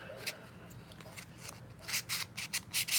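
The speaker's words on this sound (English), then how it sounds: "got some 220 grit sandpaper here and starting to do some sanding here on this" Hand sanding of a piece called the Canadian chimney with 220 grit sandpaper: quiet, close, rhythmic rasping strokes that grow into louder bursts near the end.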